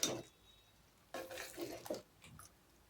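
A spoon stirs vegetable kurma masala with added water in a cooking pot, giving soft scraping and clinking against the metal, quiet and close with brief louder strokes.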